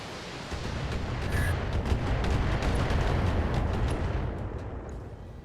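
Heavy mech weapons in BattleTech, including a Marauder, pound away in a dense, continuous barrage of booming shots and rumbling impacts. The volley stays loud and sustained for several seconds with no talking.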